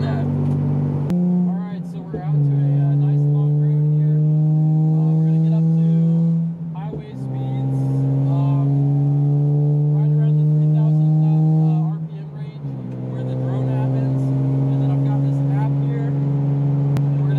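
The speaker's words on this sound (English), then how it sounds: "These motors especially are notorious for having unbearable exhaust drone." A car with a VQ engine produces a heavy, steady exhaust drone from inside the cabin, sustained and rising slightly in pitch across three long pulls with brief dips between them, with talk over it.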